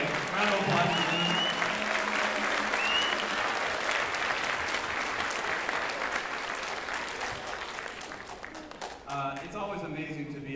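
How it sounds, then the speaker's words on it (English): Loud, dense applause from a school audience at a beginning band spring concert, steady for several seconds and then tapering, with some voices emerging near the end. "round of applause for them"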